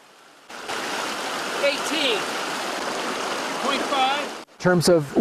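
Glacier-fed Nooksack River in northwestern Washington, flowing as a steady, full rush of water that holds for several seconds, with faint voices or birdlike chirps over it before it cuts to talk at the end.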